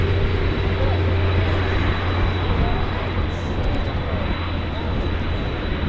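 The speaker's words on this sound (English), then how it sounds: "This helicopter just flying over the airfield at the moment." Steady, loud aircraft engine drone from a helicopter passing over an airfield, holding a constant tone throughout with no clear rise or fall.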